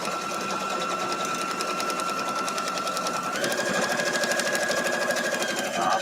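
Sewing machine stitching across several layers of quilt fabric scraps, a fast, steady mechanical chatter of needle strokes running continuously and close, with a slight shift in pitch partway through.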